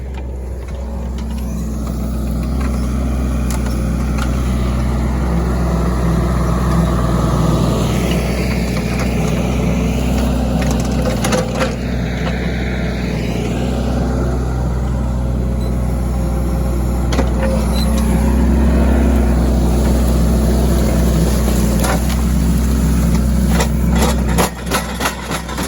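Mini excavator fitted with a root rake running steadily while ripping out trees, a loud continuous diesel drone with low rumble and occasional clanks, close by and alone throughout.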